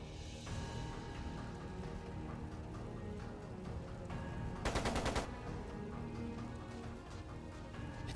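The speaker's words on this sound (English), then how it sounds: "It sounded like a machine gun." A short, rapid burst of machine gun fire rattles out midway through a quiet scene in Trails of Cold Steel II, set against a low steady background of ambient game sound.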